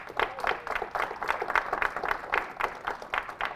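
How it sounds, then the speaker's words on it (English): A modest audience gives a round of applause, individual claps standing out in a quick, slightly uneven patter at moderate distance, fairly soft and steady, with no one speaking. "Let's give her a round of applause."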